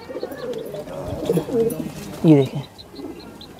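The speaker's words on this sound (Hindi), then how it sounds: "क्योंकि बहुत प्यारे प्यारे कबूतर है" Banarasi pigeons coo and flutter nearby, with soft repeated coos and a louder burst of calls, while someone talks over them.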